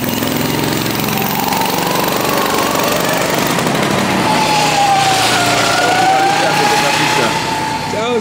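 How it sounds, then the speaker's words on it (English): A small engine drones loudly like a lawnmower, buzzing and revving steadily as it passes nearby, with people talking over it. "They do sound like a lawnmower. That's what kind of engine they got up under there."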